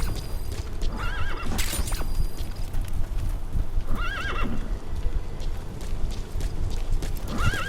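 A horse in the video game Metal Gear Solid V: The Phantom Pain whinnies twice over steady clip-clopping hooves, with a dense rumbling game soundscape underneath.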